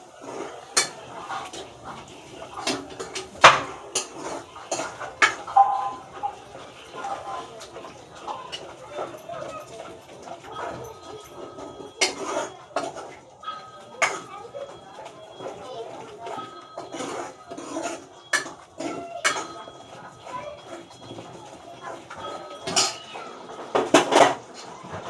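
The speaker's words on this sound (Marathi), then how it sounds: "दही टाकल्यावर हे दही असं चांगलं ह्याला असं मिक्स करायचं" Yogurt is stirred into a pan for a paneer dish: scattered metallic clinks and scrapes of a spoon against the pan, fairly quiet and irregular, with a voice talking between them.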